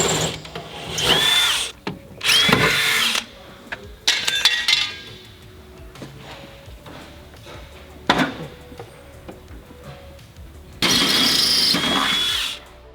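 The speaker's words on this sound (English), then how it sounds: "Drill out or remove the body clips holding the fuel and brake lines in place." Under a Foxbody Mustang, a power drill whirs in several short bursts while drilling out body clips, separated by metallic clinks and rattles of tools and parts.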